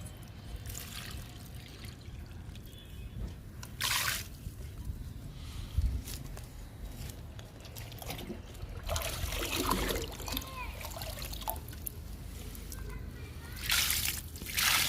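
Liquid fertilizer made from kitchen waste and oats poured onto flowering eggplant plants in a garden, with a few short splashing bursts over steady background noise.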